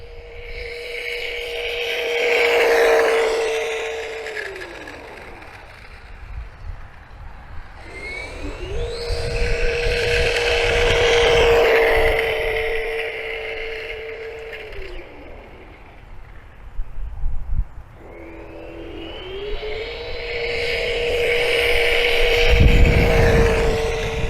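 A Flyhal FC610 1:10 scale 4WD RC truck with a 3300kv brushless motor runs on 2s, giving three whining passes that rise and fall as it speeds toward and away, with rough rolling noise between them.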